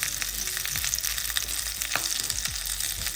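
Whole pomfret fish frying in a pan over medium-high induction heat, a steady loud sizzle with faint crackles and occasional light pan sounds throughout.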